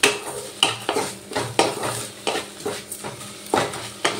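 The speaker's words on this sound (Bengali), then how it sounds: "এবার ছানার সাথে চিনিটা ভালো করে একটু নেড়ে চেড়ে নেব।" A spoon stirs chhana (fresh curd cheese) with sugar in a pan, giving repeated scraping and clinking strokes against the metal at a steady, uneven rhythm, close up, with a faint sizzle underneath.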